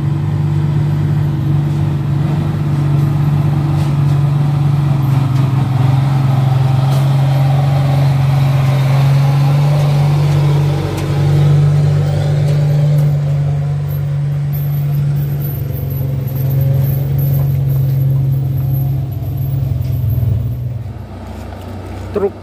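A Fuso truck labours uphill on a rocky road while towing a pickup truck: a loud, steady low engine drone holds at a constant pitch for a long stretch, easing slightly near the end. The recording has no speech.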